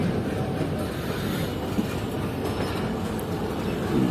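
A passenger train on the Zikriya Express pulls out of Khanpur Junction station in Punjab, heard from aboard as a steady close rumble of wheels and carriages with faint rhythmic clatter and no talking.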